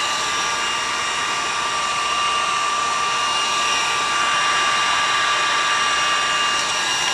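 A heat tool blows hot air onto a styrofoam pumpkin, giving a loud, steady, unbroken whir with a high whine that stays constant throughout and has no talk over it.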